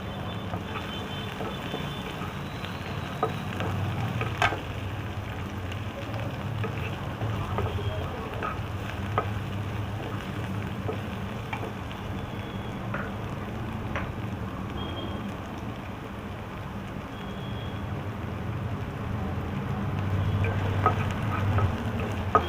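Chopped ginger fries in a pan for soya manchurian, giving a continuous crackling sizzle with scattered sharp pops. The sound stays moderately loud and close throughout.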